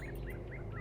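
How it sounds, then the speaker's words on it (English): Birds chirping in the video game The Talos Principle 2, a few short, faint tweets repeating over a steady low ambient hum, with no talk. "Do you hear the birds chirping outside the dome?"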